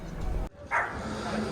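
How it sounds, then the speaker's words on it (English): A dog barks at a crowded seaside oyster festival in Whitstable, one short bark in a noisy outdoor crowd with people talking around it. "Barking at the child."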